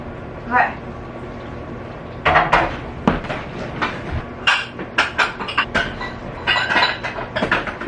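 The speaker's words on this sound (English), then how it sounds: "I packed all the pots and pans" Pots and pans are packed in a kitchen while moving out, with scattered metallic clanks, knocks and rattles in uneven bursts, close and fairly loud.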